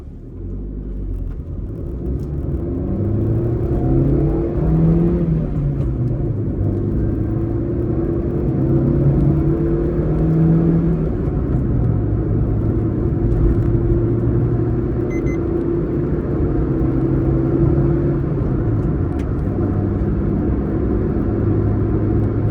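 Steady engine drone and road rumble from inside a 2022 Maruti Suzuki Swift VXI on the move, holding a continuous low hum with slight rises in pitch as it drives and turns, with no voices heard.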